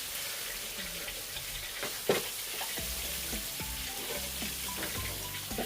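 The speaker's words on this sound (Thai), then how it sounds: "ผัดกระเทียมลงไปกระเทียม เรียบร้อย" Garlic stir-fried in a pan gives a quiet, steady sizzle with scattered clinks and scraping strokes of a utensil, heard close with no talking.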